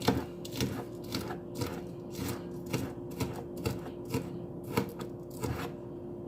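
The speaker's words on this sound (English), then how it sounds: "I'm going to go ahead and cut my onion" A knife cuts an onion on a board, with a steady run of crisp, close chopping taps, about two per second, on its own without talk.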